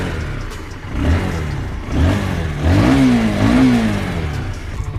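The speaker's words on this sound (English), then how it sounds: "you can really hear that the exhaust muffles the bike quite a bit." A Honda CBR 125 R motorcycle with its stock exhaust revs in several rising pulls, a muffled mid-pitched engine note that climbs and falls close by, with no voices.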